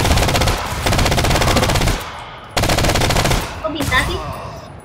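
Rapid automatic gunfire from the co-op shooter video game GTFO, dense rattling bursts in two long volleys separated by a short pause, loud and close, with game effects trailing at the end.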